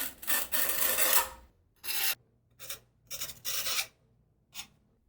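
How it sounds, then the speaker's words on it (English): 3/16 notch trowel spreading thinset for tile in a shower niche, close raspy scraping strokes, one long sweep followed by several shorter passes with quiet gaps. "I'm taking a 3/16 notch trowel"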